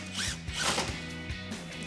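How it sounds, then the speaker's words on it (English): A bolt on a GMC Sierra 1500 exhaust hanger is tightened with a 15mm socket, heard as a short whirring power-tool run with quick ratcheting bursts, faint and close. "we'll take a 15mm socket and tighten this one down"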